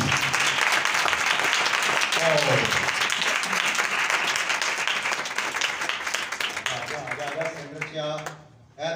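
Church audience applauding at a Christian gathering, sustained clapping from a crowd that holds steady and then fades out toward the end, with a voice speaking over it.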